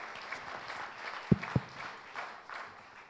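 Audience applause at a round table discussion, a soft sustained patter of many hands clapping at moderate distance, with two sharp close thumps cutting through midway.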